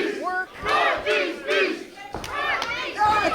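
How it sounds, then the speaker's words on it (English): Wrestling crowd at a Limitless Wrestling event chants in unison, a loud rhythmic call of rising voices repeating in several bursts, close and filling the arena. "The crowd chanting for Alec"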